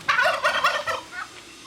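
Turkeys gobble at a dog on a farm, with several rapid, loud, close gobbling bursts that tail off into quieter calls.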